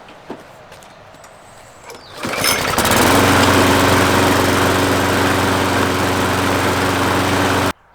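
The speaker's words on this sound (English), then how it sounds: "I'm going to start the engine and just lift it up very slightly and engage the drive so you can see the wheels turning." Ferrex petrol self-propelled lawn mower being pull-started: a few quiet clicks, then the engine catches and settles into a loud, steady running drone held close up before stopping abruptly at the end.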